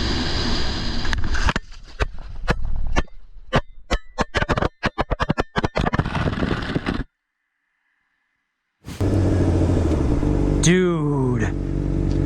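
A motorcycle on a difficult road surges and revs loudly in sharp bursts, then cuts to a brief silence, followed by a busy roadside scene with engine noise and a rising whine after the rider loses control.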